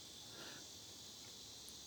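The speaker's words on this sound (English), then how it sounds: "You hear the cicadas?" A continuous high cicada buzz, faint and steady, filling the background without pause outside a yurt.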